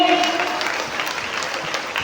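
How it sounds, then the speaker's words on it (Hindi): An audience applauding at a devotional stage performance, with dense, continuous clapping that fills the whole stretch at moderate loudness. "तालियां बजाएंगे"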